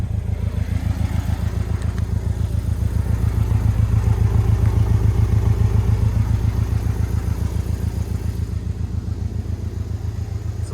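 A 2022 Porsche Cayman T engine starts up and runs steadily nearby, a loud, continuous, even throb with a regular pulsing rhythm throughout.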